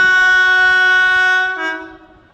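A train at Milton Keynes station sounds a loud, close horn, a sustained tonal blast that shifts pitch partway through before fading out over about two seconds.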